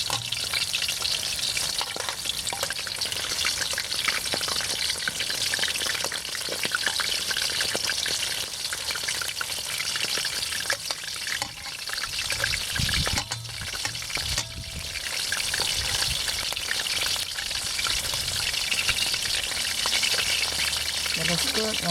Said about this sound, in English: I'm going to deep fry a little bit until they turn it a little bit brown a little bit